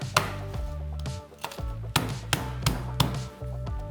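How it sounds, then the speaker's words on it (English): Knife chopping finely through garlic on a board for porcini and red wine risotto, a run of crisp, close, uneven taps and thuds, loud and alone. "Okay, so we've got our garlic. Just going to finely sort of mince this."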